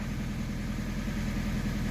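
A car engine idles on a frosty morning while warming up, a steady low rumble with a faint rhythmic knocking, close and alone without voices.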